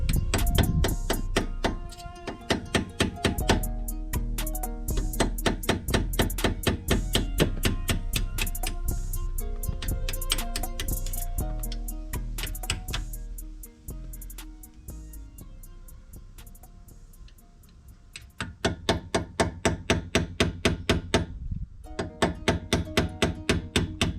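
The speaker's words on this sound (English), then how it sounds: "I'll use this as a pin to push these pins out right here." Pins being hammered out of a Brembo brake caliper on a Dodge Charger Hellcat, using a punch. Loud, close, sharp metallic taps come in fast rhythmic bursts separated by short pauses, with no talking.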